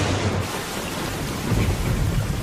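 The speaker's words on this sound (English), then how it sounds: "the rain isn't letting up." Heavy rain hisses constantly in a thunderstorm, with low thunder rumbling loud and close at the start and again later.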